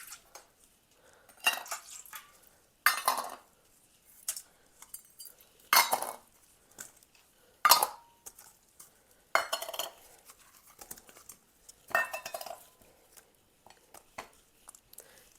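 Chicken marinade of garlic, ginger and black pepper being mixed in a bowl, with repeated clinks and scrapes of a utensil against the dish in short bursts, fairly close, no talking.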